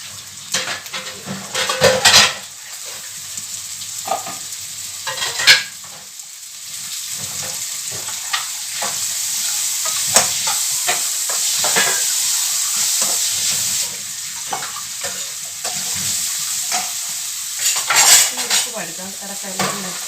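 Onion and tomato frying in oil for a Mangalore-style squid sukka, with a steady sizzle and irregular clanks and scrapes of a spoon stirring against the pan, close and fairly loud, no talking.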